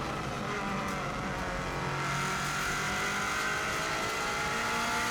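A 2016 Subaru WRX STI with a fast six-speed paddle-shift gearbox, driven flat out on the Isle of Man TT course, roars steadily at high revs close by, the engine note shifting as it climbs through the gears.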